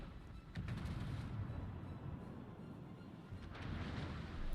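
Naval shells from World of Warships striking the Atlantico, a dense rumbling barrage of booming impacts and gunfire that swells near the start and again toward the end, with no voices.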